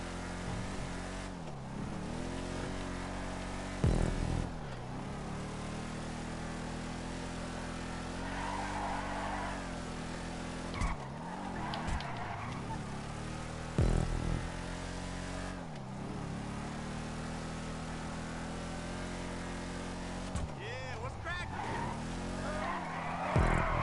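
A Vapid Ellie muscle car in Grand Theft Auto 5 drones and revs steadily, its engine pitch rising and dropping through repeated gear changes, with tires skidding and squealing in several sharp bursts along the lap; no voices.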